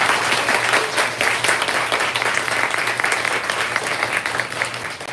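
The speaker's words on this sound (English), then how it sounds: "let's give them a big round of applause" A bookstore audience at an author event gives loud, continuous applause, close and dense, many hands clapping steadily throughout with a faint hum underneath.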